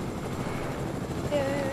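A helicopter in the Fortnite video game hums with a low rotor drone, with a player's voice briefly heard over it near the end.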